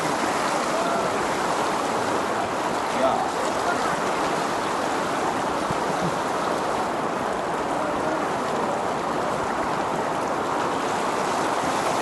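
Floodwater in Sylhet, Bangladesh rushes and bubbles up in a constant, loud, stream-like wash that holds steady throughout, with no voices over it.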